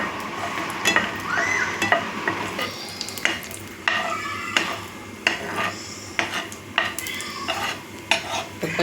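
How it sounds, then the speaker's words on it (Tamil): Almonds and cashews roasting in a pan for mango kesari, stirred with a utensil that makes repeated scraping clinks against the metal over a soft sizzle, close and rhythmic, no voices. "இப்போ இதில் இந்த பருப்பு வகைகளை வறுத்தெடுத்து வச்சுக்கலாங்க."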